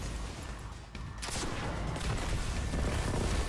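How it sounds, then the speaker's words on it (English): Rockets fired at groups of knights in Destiny 2, during a Strange Terrain Nightfall against Nokris, make a loud, continuous barrage of overlapping blasts and crackling bursts that swell and grow denser toward the end. "I like to put in at least 3 rockets here."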